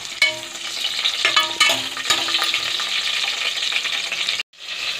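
Onions, green chillies and curry leaves fry in a pan for pulao, giving a steady close sizzle with scraping stir clatter on top, cutting off abruptly near the end.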